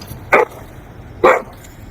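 A dog gives two sharp, loud barks about a second apart, close by, over low background noise.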